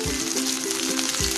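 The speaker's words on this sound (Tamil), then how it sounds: "இது கொஞ்சம் ஃப்ரை ஆகட்டும்" Curry leaves frying in oil in a pan for Kerala-style chenna curry, a continuous bright sizzle and crackle with a faint tonal hum beneath, steady and close.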